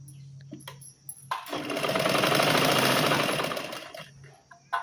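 A sewing machine stitches the fall onto a saree in one steady, fairly loud run of rapid needle strokes lasting about three seconds, with quiet moments before and after.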